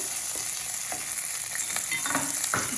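Curry leaves dropped into hot oil for a Kerala moru curry, giving a steady close sizzle and crackle with a few scraping stirs throughout, no voices.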